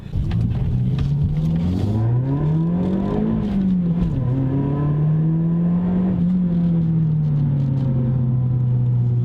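A Toyota Yaris GR-MN hatchback's engine drones and rises through the gears, revving up and easing off with a throaty, buzzing tone, close and loud throughout.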